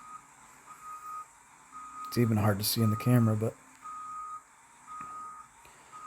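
A Cat 980 wheel loader backing up gives off a steady, evenly spaced series of reversing beeps against a low engine hum, while someone talks briefly over the middle of it.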